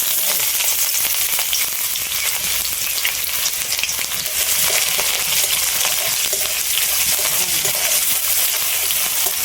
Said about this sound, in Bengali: পেঁয়াজটা আগে একটু হালকা করে ভেজে নিলাম।